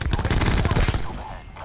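Rapid automatic fire from the Spitfire gun in Black Ops 4 rattles out in a dense, loud burst of evenly spaced shots close up. It then thins into a fading tail.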